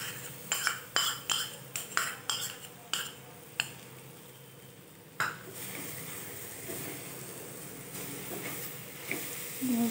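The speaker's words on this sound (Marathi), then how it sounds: "व्यवस्थित मिक्स करून घ्यायचे।" A spoon stirs malai cream in a pan over medium flame for modak, with a quick series of sharp metallic clinks against the pan, then a soft sizzling hiss as the stirring slows.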